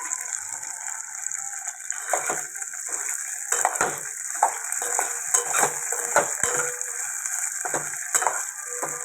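Raw prawns frying in a hot pan give a continuous bright sizzle with bursts of popping and spattering, fairly close and loud, with no talk over it.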